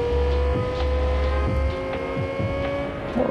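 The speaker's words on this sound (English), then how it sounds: "We should be able to get there fairly quickly in this lovely supercar" A supercar engine in Cyberpunk 2077 hums steadily at cruising speed with a constant tonal drone, low thumps and light road noise, loud and close throughout.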